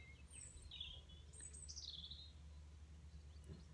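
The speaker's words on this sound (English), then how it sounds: "I can hear birds singing." Several bright bird chirps and short song phrases ring out by a lake near Hebron, faint and scattered over a low, distant rumble of road traffic.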